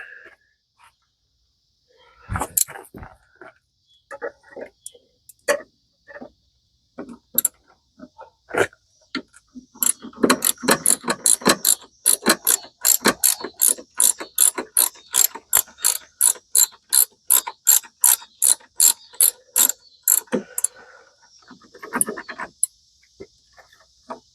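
A 12mm socket ratchet works a nut on the brake master cylinder of a 1992 Geo Metro convertible. Scattered clicks and clanks lead into a long run of loud, rapid, evenly spaced ratcheting clicks.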